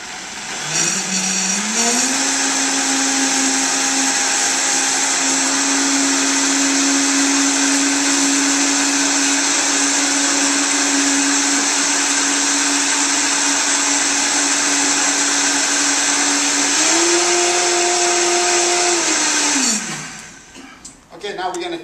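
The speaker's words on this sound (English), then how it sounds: "we're going to go into our wonderful Vitamix here. Okay, there you go. One right here. And zap that around" A Vitamix blender purees corn chowder with lump crab, its motor spinning up, holding a loud steady whir for many seconds, rising briefly in pitch near the end, then winding down.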